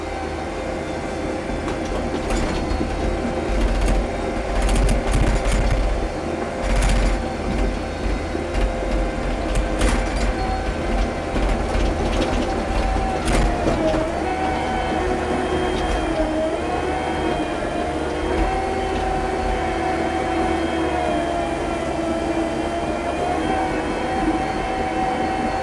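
A John Deere 605 track loader digs a pond, its diesel engine droning steadily and close for the whole stretch, with shifting hydraulic whine and rattling metallic clanks as the machine works.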